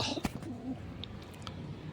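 Soft pigeon cooing close by, with a few light flutters and faint chirps in a quiet space.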